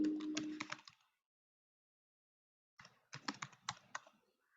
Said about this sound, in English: Yeah, but I want this typewriter.